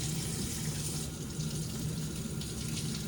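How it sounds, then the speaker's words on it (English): Water runs steadily from a tap for a pet's bath, a continuous close splashing rush that fills the whole stretch without any talk. "just the sound of the water is what kind of gets him"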